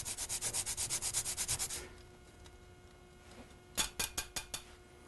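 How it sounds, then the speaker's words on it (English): A nutmeg pod rasps against a small cheese grater in about fifteen quick, even strokes, then a few more scrapes after a pause, close and quiet with no talk. "But I think it makes a perfect nutmeg grater."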